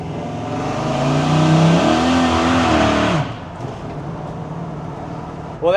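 A 1968 Chevrolet C10 with a 496ci stroker big block revs and accelerates hard, a loud rising roar for about three seconds that then drops abruptly to a quieter idle-like rumble.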